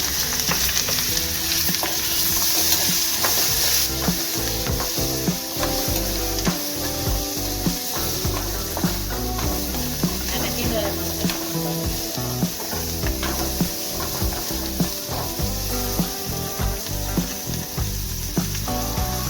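Ivy gourd and chilies sizzle loudly in a hot pan with turmeric. A spoon scrapes and stirs them in irregular knocks throughout. No one speaks.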